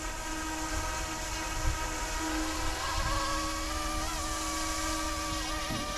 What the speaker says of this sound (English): The green Blackhawk helicopter, you have to constantly fly it, even in 6G mode.